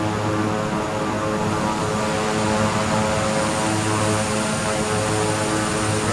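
A Beechcraft King Air propeller plane in Flight Simulator 2020, landing at Maniitsoq, Greenland, gives a steady, loud, droning engine and propeller hum that holds evenly throughout with no talk.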